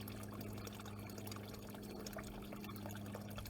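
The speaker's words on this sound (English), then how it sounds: "You can see the water's coming out." Water from a pond being drained for winterizing pours steadily out of a siphon hose, a soft continuous splashing flow with a low steady hum underneath, faint and unbroken.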